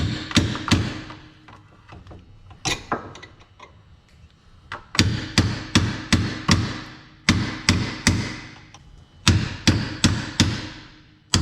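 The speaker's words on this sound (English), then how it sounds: "Get yourself a punch and a hammer." Sharp metallic hammer strikes on a punch against a bolt in a Honda CR-V rear strut, in quick bursts of three to five blows separated by short pauses, close and loud with ringing overtones.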